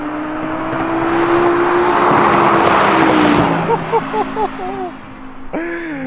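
Audi R8 V10 Spyder sports car engine roaring loud and steady for a few seconds, then dropping back as a voice talks over it, with a short horn-like tonal burst near the end.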